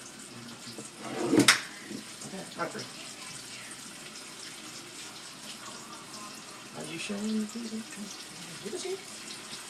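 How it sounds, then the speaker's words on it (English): Hot tap water runs into a cooking pot in a home kitchen, a soft steady stream with a louder splash near the start, while people talk over it. "I'm gonna add hot water."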